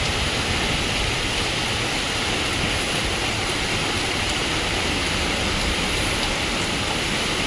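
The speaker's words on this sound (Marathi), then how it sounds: "बघा इकडे पण पाऊस" Heavy, steady rain pours down in a dense, continuous hiss that fills the whole stretch without letting up.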